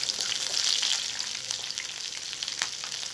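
Garlic and pepper fry in a pan on a small spirit stove for Alexandrian sausage, a dense continuous crackling sizzle close by with occasional sharper pops, no voices.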